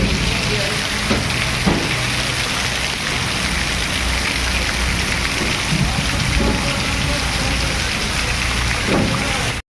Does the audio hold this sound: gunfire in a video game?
no